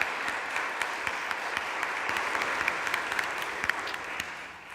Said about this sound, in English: Maybe another round of applause for Donna and her story tonight.